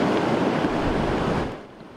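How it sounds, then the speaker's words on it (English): Storm-driven ocean waves crash on the Jersey Shore during severe winter weather, a loud continuous roar of surf and wind that eases slightly near the end. "the sound of the waves right there crashing on the Jersey Shore"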